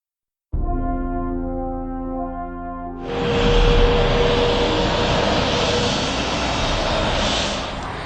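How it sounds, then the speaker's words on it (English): A jet aircraft at Exeter International Airport, a regional airport, starts with a tonal engine whine, then swells into a loud, steady broadband roar that holds and slowly eases. "Well, here I am at Exeter International Airport."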